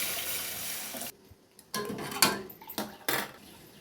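A spoon scrapes and clinks against a metal pan while stirring a mixture with coriander leaves into tempering, in a few short bursts separated by brief pauses, close and fairly quiet.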